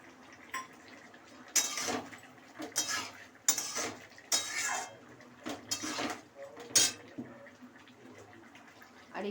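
A spoon scrapes and clatters against a pan as fried spices are stirred into a potato curry for dalpuri, with several bursts of metallic scraping between quieter gaps and faint kitchen background.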